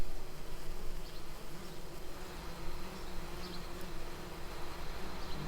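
Steady dense buzzing of many sweat bees and honeybees close by, a continuous droning hum with no pauses and no voices.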